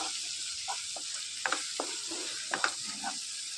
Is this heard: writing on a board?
no